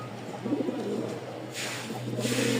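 Pigeons coo in low, rolling repeated phrases close by, with two short bursts of rustling hiss in between.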